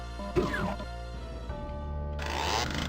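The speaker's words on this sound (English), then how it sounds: "Alright, use my chainsaw." A chainsaw runs in the video game Doom (SIGIL), with a buzzing, harmonic motor drone that idles and then revs up toward the end, close and steady.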